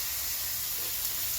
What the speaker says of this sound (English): we're going to take the salmon and we're going to place it in the pan, skin side up